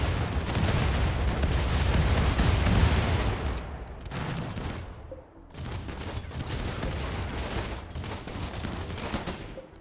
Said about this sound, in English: And now my guns are engaging properly, and they're already retreating.